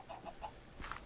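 A chicken in the Minecraft Better Than Wolves mod gives a few soft, short clucks in quick succession, faint and close, over a low background hum.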